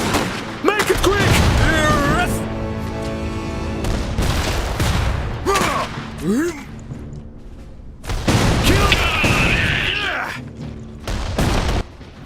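Iron Harvest battle with bursts of gunfire and heavy booms mixed with shouted unit voice lines and mechanical whirs, loud and dense throughout with short pauses.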